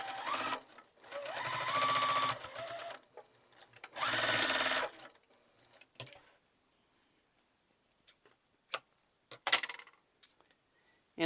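A sewing machine stitching darts on a fabric bowl cozy runs in two short close bursts of rapid mechanical whirring, then falls quiet apart from a few faint clicks and handling taps.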